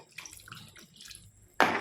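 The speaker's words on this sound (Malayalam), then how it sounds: "കുറച്ച് പുളിവെള്ളം ഒഴിച്ചു കൊടുക്കാം" Tamarind water splashes into ridge gourd theeyal curry in a pan: a short, loud pour bursts in near the end after quieter kitchen rustling.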